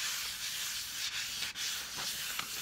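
Paper backing rubbed firmly over a transfer on a furniture surface, a steady close-up hissing scrub that continues evenly with a couple of brief pauses, alone without speech.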